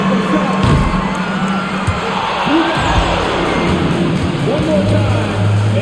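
A basketball arena crowd in the video game NBA 2K26 cheers and whoops loudly throughout a half-court shot, with yells rising and falling over a dense roar of voices.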